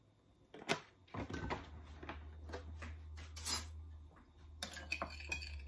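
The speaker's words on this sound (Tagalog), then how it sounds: "Halo natin dito sa bowl ang ating garlic powder." A spoon clinks and scrapes against a bowl while garlic powder and oil are mixed for a grilled chicken marinade: close, intermittent taps and knocks with quiet gaps, and no talking.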